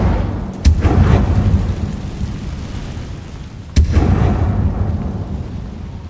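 Two sharp cracking bursts of the Incendio fire spell from the Hogwarts Legacy video game, each followed by a rolling thunder-like rumble, ring out over steady low background noise.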